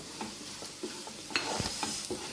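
Garlic pickle being stirred with Kashmiri chili powder in a hot oily pan, a soft steady sizzle with light scraping and clinks of the spoon, close and quiet, no talking.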